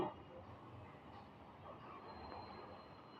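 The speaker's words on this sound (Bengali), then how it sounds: "এই যে রেল ক্রসিংয়ের এখানে আমরা বসে আছি, ট্রেন যাইতেছে" A train passing a rail crossing near Hatirjheel, heard as a faint, continuous low rumble with steady wheel noise at a distance.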